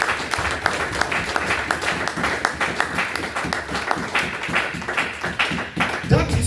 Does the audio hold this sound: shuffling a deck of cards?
no